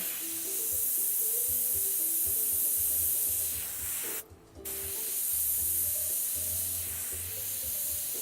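Paint hisses steadily from a spray nozzle onto a bay model horse being dappled, a close continuous spray broken by one brief pause midway before resuming.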